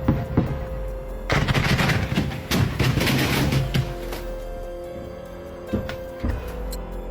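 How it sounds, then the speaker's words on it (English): Cluster munitions exploding close to a Russian soldier's position in Ukraine, a rapid crackling series of sharp blasts and pops that swells loud and dense for a few seconds, then thins to scattered bangs and a rumbling tail. "Russian soldier films cluster munitions exploding in close proximity to his"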